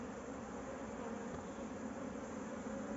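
A bee swarm living in an old tyre used as a hive makes a dense, steady buzzing drone close by, continuous and unbroken with no voices.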